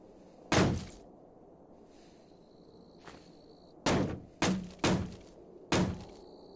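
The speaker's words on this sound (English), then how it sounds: "I'm getting something inside banging on the door" Something inside a tool shed bangs on the door in the video game Cataclysm DDA: one loud thud, a fainter knock, then four sharp bangs in fairly quick succession against a quiet background.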